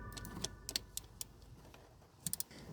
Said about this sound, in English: But first I need to check if the actuator is working by applying voltage.